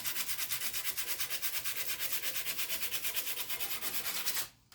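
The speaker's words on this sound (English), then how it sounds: "all you're going to do with the sandpaper is sand this down just a bit" Sandpaper rubbing down a BMW F30 rear brake part in fast, even back-and-forth strokes, a close rhythmic scratchy rasp that stops abruptly near the end, no talking.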